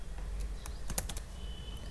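A terminal command is typed on a computer keyboard in Ubuntu, a short cluster of five or six quick faint key taps over steady low room hum, no speech.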